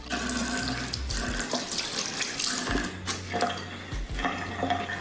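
Water runs steadily from a tap into a sink while a face is rinsed, with splashing and shifting water sounds, close and continuous, plus a low hum underneath.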